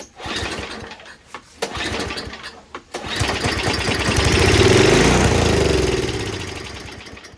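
Small snowblower engine, just given a carburetor cleaning, sputters through a few uneven attempts and then catches, settling into a steady, close, rattling run.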